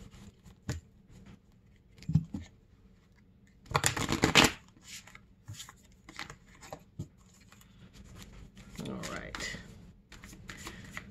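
Holitzka oracle cards shuffled by hand in short, soft bursts of riffling and patter, close and quiet, with a louder flurry in the middle and gaps of near silence between.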